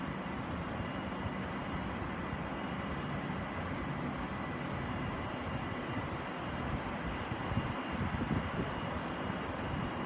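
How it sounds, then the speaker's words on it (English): A Gatwick Express Class 387 electric train waits at a Gatwick Airport platform, heard as a steady broadband hum and rumble, constant and moderately near, with no talking. "About ready to go with the 10:23 Gatwick Express service to London Victoria."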